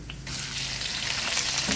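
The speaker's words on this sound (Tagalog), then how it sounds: "lagay ko ng giniling" Ground meat sizzles as it hits hot oil with onion in a pan, a loud, steady frying hiss that jumps up after a brief quieter start and holds close and continuous to the end.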